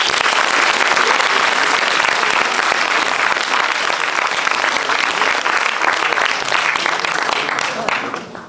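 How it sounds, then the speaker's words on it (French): Dense, loud audience applause for an improv team at a French improv challenge show, sustained thunderous clapping with some voices in the crowd, tapering off slightly at the end. "un tonnerre d'applaudissements pour le moindre mot"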